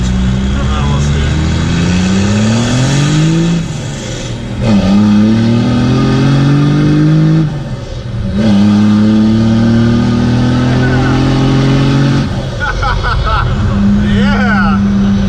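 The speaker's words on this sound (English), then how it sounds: "Just like give her from like second to third, just like drop the clutch." A sleeper Cummins diesel truck revs hard through second and third with the clutch dropped, engine pitch climbing in repeated rising sweeps between gear changes, loud and close inside the cab, with voices talking over it.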